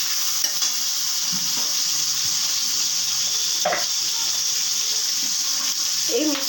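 Onions fry in oil for an okra and mustard dish, a steady close hiss of sizzling with occasional scraping stirs and soft clatter.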